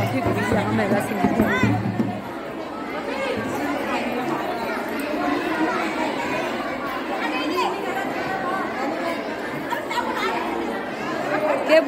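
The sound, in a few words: crowd chatter at a Kumaoni women's sangeet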